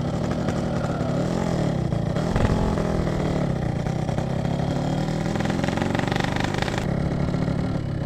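A Yamaha RX King two-stroke motorcycle, kick-started with no electric starter, runs steadily up close, its engine note rising briefly in a rev before settling back to a rough, buzzing idle.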